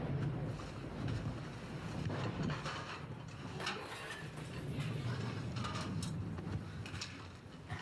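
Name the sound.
wind blowing in a storm scene of Boardwalk Empire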